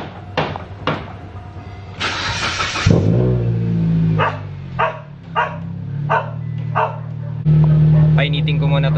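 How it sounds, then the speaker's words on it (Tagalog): An automatic transmission car's engine starts and settles into a steady low idle while warming up, with a few clunks and thumps over the top and a voice talking nearby. "Painitin ko muna itong sasakyan"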